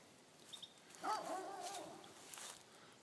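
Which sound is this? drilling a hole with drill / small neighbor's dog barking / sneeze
small neighbor's dog barking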